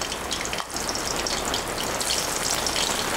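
Green chilies and cumin seeds sizzle loudly and steadily in hot oil in a pan, a dense continuous crackle with no talking.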